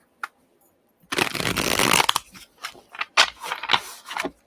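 A deck of tarot cards riffled and shuffled up close, a short burst of papery flutter followed by several quicker snaps and taps.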